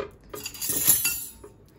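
Dishes and cutlery clink and clatter as a dishwasher is loaded, a run of close, bright metallic and ceramic knocks that swells to a peak midway and then settles, with no talk over it.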